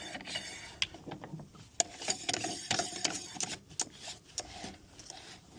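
Small metallic clicks and scrapes of a tool tightening a set screw on a DARK30 Defiance LS 384 thermal scope, close and irregular, with sharp ticks scattered through a quiet background.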